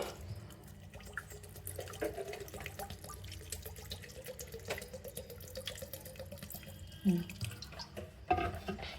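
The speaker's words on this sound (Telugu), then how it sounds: "ఇప్పుడు ఇందులో నీళ్ళు పోసుకుందాము." Water is poured into washed flattened rice (poha) for dosa batter, a steady nearby trickling and splashing that swells in a couple of louder gushes near the end.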